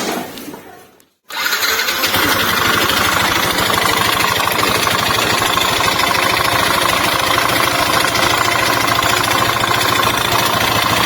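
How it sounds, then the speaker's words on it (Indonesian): A Yamaha NMAX scooter engine starts up after a brief silence and runs steadily, with a constant noisy rattling buzz from a loose fan pulley over the idling drone, close by. "Nah, ini akibat kipasnya kendor atau bautnya kendor. Jadi bunyi berisik."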